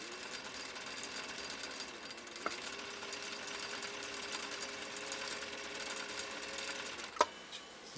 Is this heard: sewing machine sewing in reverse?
yes